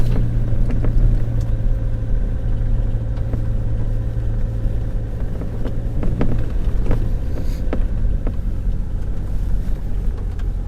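A Mazda BT-50 pickup drives along a gravel road, with a steady low engine and tyre rumble close by and occasional sharp crunches and knocks from the gravel throughout.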